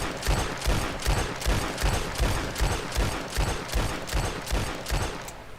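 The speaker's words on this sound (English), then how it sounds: "And yes, you can shoot 2 of the same guns at once" Twin handguns fired together in Red Dead Online crack out in a steady rhythm of about a dozen evenly spaced shots, moderately loud, with no voices over them.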